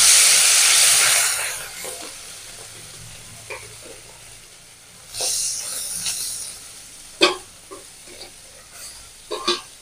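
Small fish rubbed with salt and turmeric hit hot mustard oil in a home kitchen, a loud sizzling burst that settles into a quieter crackle with occasional sharp spits and pops, no talking.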